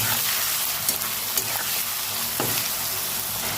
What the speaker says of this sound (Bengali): পেঁয়াজটা ভালো করে টমেটো পেঁয়াজটা একসাথে ভেজে নেবো।